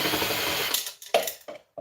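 A ratchet tool undoes screws from scrap metal, giving a dense run of close clicking followed by a few short separate ratcheting bursts, with no talk.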